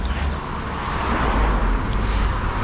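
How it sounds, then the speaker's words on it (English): Steady road traffic roars along a street in Biggleswade, a continuous broad rumble of passing cars at moderate distance with no clear individual pass-bys, heard on its own without speech. "I'll have to speak up as we get a bit of traffic noise."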